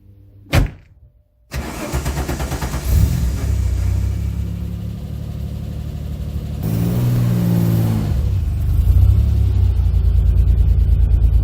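A Lancia Stratos starts up with a sharp bark, then its engine settles into a loud, rough idle close by, blipping up into a rising rev and holding a higher drone toward the end.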